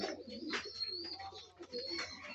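Pigeons coo softly nearby, low throaty calls overlapping with a few faint chirps in a quiet space.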